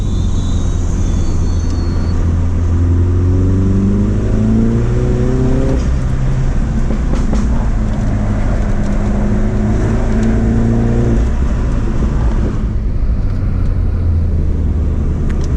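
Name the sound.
tuned car engine accelerating uphill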